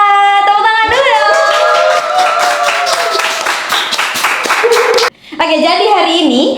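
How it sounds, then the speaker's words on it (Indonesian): Audience clapping at a talk about social action, a run of rapid, dense claps from many hands under an excited voice, with a sudden drop near the end before voices resume. "Tepuk tangan dulu dong"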